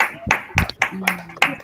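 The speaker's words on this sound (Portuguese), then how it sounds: "a gente pode agradecer abrindo os microfones e dando uma salva de palmas" Scattered hand claps pop over open microphones at an online academic talk, about five sharp separate claps from a few people at uneven intervals, with a faint voice and tone between them.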